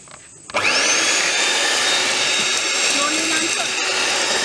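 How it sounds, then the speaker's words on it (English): An electric whisk beats egg yolks and sugar for a gluten-free orange almond cake, starting abruptly after a brief quiet moment and then whirring loudly and steadily at close range. "Now whisk it."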